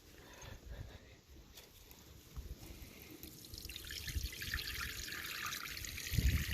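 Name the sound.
water rinsing a griddle grill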